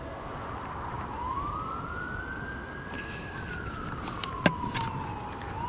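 Emergency vehicle siren near a fire station, a single rising and falling wail sweeping slowly up and then down over steady traffic rumble, moderately distant, with a few brief sharp clicks toward the end.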